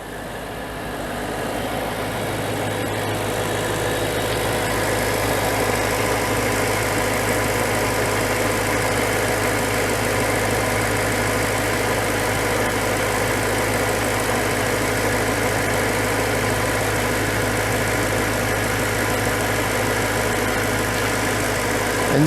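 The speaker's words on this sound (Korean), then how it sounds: "먼저 차량 엔진 아이들링을 한번 들어보도록 하겠습니다." A BMW M3 E92 V8 with about 116,000 km on it idles steadily and smoothly, a low, even rumble that holds at constant loudness throughout with no talking.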